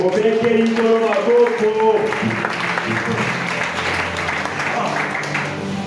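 A church congregation claps and cheers at a French-language service, the applause loud and sustained throughout, with voices and some music blended in under it.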